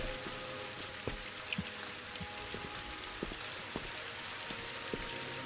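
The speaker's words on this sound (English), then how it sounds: "they still choose to put rain in it" Steady rain in the video game Viewfinder, a constant soft hiss of falling drops with scattered individual drips and patters landing on surfaces, continuous and even throughout with no voices.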